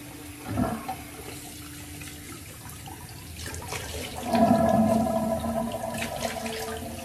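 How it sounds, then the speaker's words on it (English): Cold water from a tap runs into a sink for a rinse during a straight razor shave, with a brief splash early on and then a steadier, louder gush of running water filling the basin nearby. "Let's do a cold water rinse"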